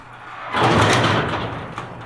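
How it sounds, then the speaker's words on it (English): A residential garage door opens with a sustained rumbling, rattling roll that starts abruptly and continues steadily for over a second, fairly loud and close, with no talk. "Just open up my garage door here."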